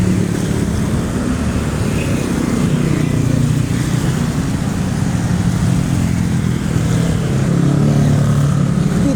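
Steady, dense street traffic with motorcycles on EDSA, a low rumbling roar of engines that holds continuously and fairly loud throughout, with no clear single vehicle standing out.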